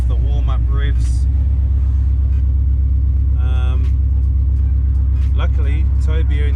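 Holden LS1 V8 fitted with Pacemaker headers idles at warm-up revs through a loud exhaust, a deep, steady rumble that runs the whole time, with a person talking over it.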